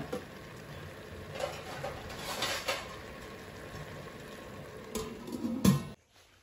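Vegetables fry in a little oil for veg dum biryani, a low bubbling sizzle with a few soft pan clinks and knocks before the sound cuts off abruptly.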